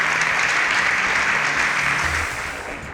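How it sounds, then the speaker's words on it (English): A studio audience at a televised competition applauds as contestants leave the stage, a thick burst of clapping that stays loud before tapering off toward the end. "A round of applause for them as they exit"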